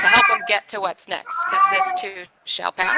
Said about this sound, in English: the noise you're hearing is a cat.